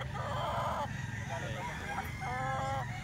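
Chickens being sold at a market, clucking and crowing in several distinct calls spread across a few seconds, fairly close, over steady low background noise.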